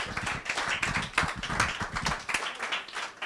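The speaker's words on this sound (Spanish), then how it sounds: "denle un aplauso al Señor" A church congregation at a discipleship class claps for the Lord, a lively, uneven patter of hands with sharp individual claps standing out, sustained and fairly close across the whole stretch.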